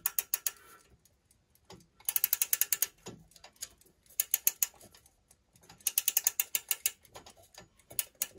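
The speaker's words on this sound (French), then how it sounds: "Alors, il se remonte par clé." A key winds the clockwork of a Haenni barothermohygrograph, producing close, crisp ratchet clicks in rapid bursts of several turns, separated by brief pauses.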